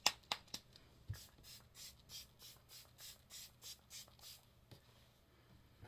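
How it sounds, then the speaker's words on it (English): Makeup setting spray gets spritzed in a rapid series of about a dozen short, soft hissing bursts, evenly spaced and close by, preceded by a few sharp clicks and handling taps in a quiet room. "let's use us some setting spray."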